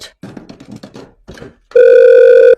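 Talk precedes a redialed telephone call, then a loud, steady electronic ringback tone sounds close and alone for about a second.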